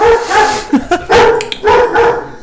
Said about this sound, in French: le chien est là aussi